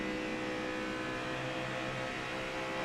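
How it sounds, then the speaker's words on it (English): Onboard engine of Dale Earnhardt Jr.'s number 5 NASCAR Nationwide Series car during 2009 practice at Las Vegas, a loud, steady, close roaring drone that holds without a break. "It doesn't sound like the engine let go, Jeff."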